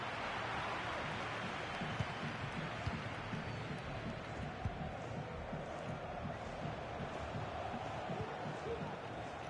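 Stadium crowd in a football video game, featuring Real Madrid players, sends up a broad, steady roar of cheering and encouragement that holds at an even level throughout, with faint commentary woven underneath.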